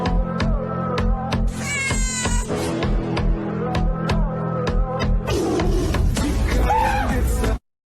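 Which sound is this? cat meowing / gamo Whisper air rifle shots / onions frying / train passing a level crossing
cat meowing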